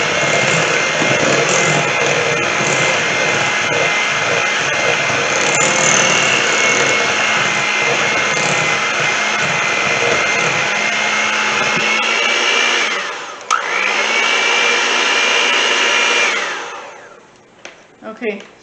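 Electric hand mixer whirring steadily as it beats egg whites into keto bread batter, loud and continuous, briefly dipping once before cutting off near the end.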